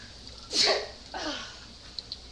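A single close sneeze, set off by the smell of garlic and pepper while cooking, bursts out, followed a moment later by a softer second exhale, over faint room noise.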